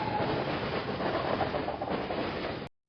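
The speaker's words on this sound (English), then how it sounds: "This train is going uphill." A long, old train climbing a grade in the country, its steady rolling rumble and clickety-clack of wheels on rail filling the clip at close range before cutting off abruptly near the end.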